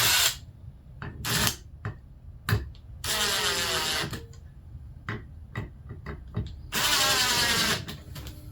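A power drill driving 3-inch deck screws into pre-drilled holes on a wooden swarm trap platform: two sustained whirring bursts, each under a second, separated by sharp clicks and knocks of handling.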